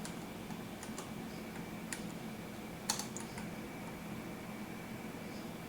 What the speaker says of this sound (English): God, I can't type